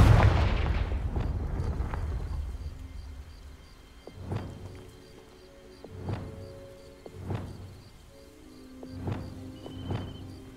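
Repeated Confringo fire-spell blasts in Hogwarts Legacy, a loud burst at the start followed by five or six evenly spaced booming impacts with ringing tails, no talking.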